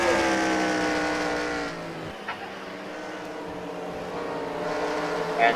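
Stock cars race around an oval speedway in a racing video game, a loud steady engine drone with a passing car whooshing by midway, then the roar building again.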